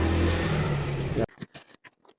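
A car passes close outside, its engine and road noise loud and steady for about a second before cutting off abruptly, then a voice speaks in short bursts.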